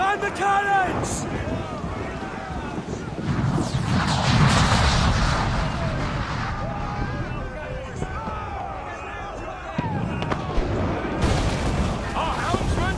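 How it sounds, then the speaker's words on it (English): Heavy booming ship cannon fire rolls through a naval battle in Assassin's Creed 4 Black Flag, layered with shouting voices, creaking and rumbling over continuous noisy din. "Man the cannons!"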